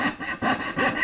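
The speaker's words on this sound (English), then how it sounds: "I'm going to take my coping saw and give it a slight change" Coping saw cutting through wood for an acoustic guitar neck joint fixture, three quick rasping back-and-forth strokes, close and distinct, with no talking.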